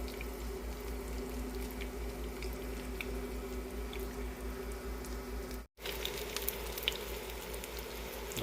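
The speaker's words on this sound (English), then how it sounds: "I'm going to sear the outside edges" Chicken cordon bleu searing in a hot pan, a steady close sizzle and crackle with faint pops throughout, a low hum beneath and a brief dropout midway.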